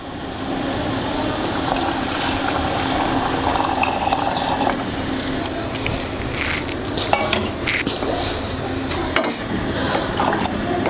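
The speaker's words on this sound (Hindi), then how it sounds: "देखें पानी जो है उसी तरह उबल रहा है" Water boils in a pot for ginger cinnamon tea as milk is added, giving a continuous close bubbling and churning hiss with a few small clinks, and no talking.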